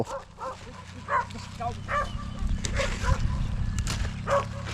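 A dog barks in short, repeated yips over a steady low background hum, with muffled voices now and then in between.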